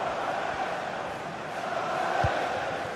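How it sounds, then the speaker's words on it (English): A large football stadium crowd roars in a steady, dense wash of cheering and chanting, loud and sustained throughout, with a few louder thumps near the end. "just listen to this crowd"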